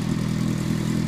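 A Yamaha XJR400R motorcycle engine idles steadily at close range, a low, even rumble with a fine rhythmic pulse and no revving across the short stretch.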